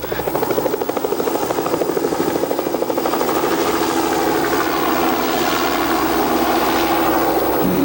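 A helicopter airlifting supplies in slings in Arizona drones steadily and loudly, its rotor chopping in a rapid, even pulse with engine whine, holding close throughout.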